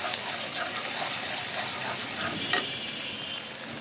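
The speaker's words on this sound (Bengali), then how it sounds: "পেঁয়াজগুলি ভালো করে একটু ভেজে নেব।" Onions fry with salt in hot oil in a pan, a steady, dense sizzle that hisses evenly throughout with faint stirring scrapes and no talking.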